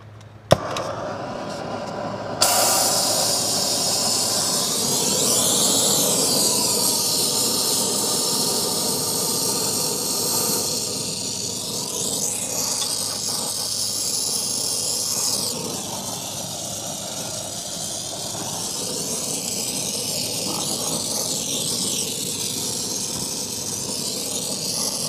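A brazing torch hisses steadily while an HVAC lineset is joined in a spray-foam insulated house, a loud continuous roaring hiss that starts after a brief click and runs on with slight swells.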